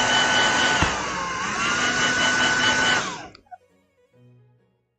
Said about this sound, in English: I'm gonna get my hair dryer out real quick, so I apologize in advance if this is noisy